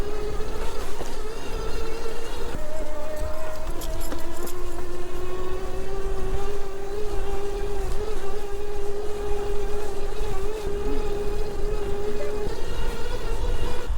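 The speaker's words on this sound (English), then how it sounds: "I'm going to go full power up the hill, full throttle, and see how it copes" A Fiido D3 Pro folding electric bike is ridden at full throttle up a hill, its motor giving a steady, rising whine over constant wind rumble, loud and continuous throughout.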